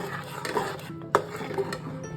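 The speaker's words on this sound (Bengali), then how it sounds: "দুধ আর চিনি অ্যাড করে দিয়েছি এবার ভালো করে মিক্স করছি" Spoon scraping and clinking against a metal pan while stirring thick semolina pudding with milk and sugar, with a sharper knock midway; steady kitchen sounds, no talking.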